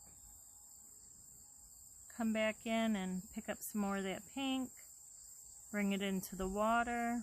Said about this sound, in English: cicadas are quite loud today